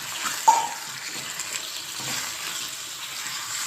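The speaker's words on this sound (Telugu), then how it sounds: "దీంట్లో వాటర్ అంతా బయటకు వచ్చేసే వరకు మంచిగా వేగనివ్వాలి చికెన్ అయితేనే" Half a kilo of chicken frying in a pan for a spinach chicken curry gives off a steady soft sizzle and hiss, with a brief metallic clink near the start.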